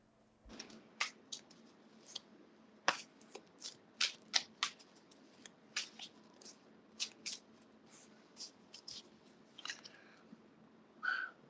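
A tarot deck is shuffled up close, with a long run of irregular soft riffling snaps and card slaps over a faint background hum and no talking.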